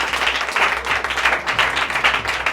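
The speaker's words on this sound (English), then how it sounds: "A round of applause to her." Applause from an audience at a community vocational training event, a steady wash of many hands clapping close by, dense and continuous for a couple of seconds with no talk over it.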